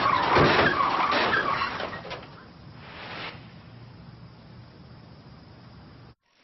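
A car that has just hit a wall accelerates hard, tires skidding and engine roaring loudly up front before the noise fades to a low rumble, with a brief rise midway and a sudden cutoff at the end.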